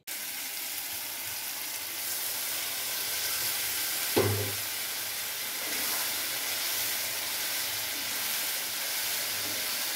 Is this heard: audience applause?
no